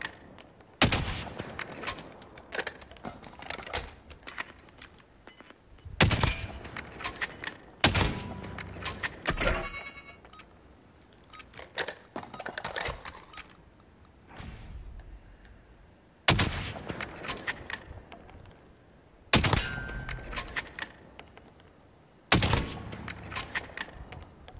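Video game gunfire aimed at moving targets, with bullet drop at long range: single loud rifle shots, each followed by a quieter thunk, cracking out at irregular intervals several seconds apart over a quiet background.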